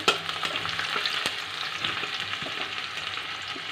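Chopped raw onions fry in a pan, a close, steady crackling sizzle dotted with small pops and occasional stirring scrapes.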